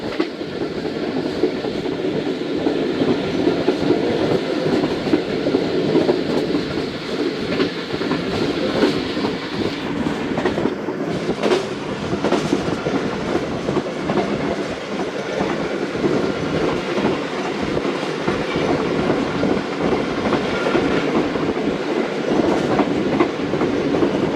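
A speed train on the Musapak route runs along the rails with a continuous loud rumble and rhythmic clickety-clack of the wheels, heard from inside the carriage.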